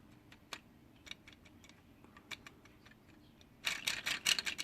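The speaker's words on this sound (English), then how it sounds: "There's a very soft ratchet right there, listen." Soft ratchet clicks from a joint on a toy bulldozer robot being folded and rotated, a few sparse faint ticks followed by a louder rapid burst of clicking near the end.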